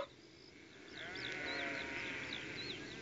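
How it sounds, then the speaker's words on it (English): Sheep bleating on a live radio show broadcast, several wavering bleats repeating over a steady background, fairly close and clear, with no talk. "Do you hear the sheep?"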